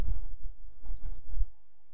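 Mouse clicks on a software button in a job-costing utility, several crisp close clicks in quick succession, alone without talk.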